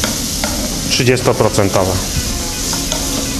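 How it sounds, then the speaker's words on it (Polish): White wine and sweet cream are stirred together in a pan with frying pork ingredients, giving a steady sizzle and hiss with soft scraping as someone speaks over it. "To wszystko razem ze sobą mieszamy na jednolitą masę."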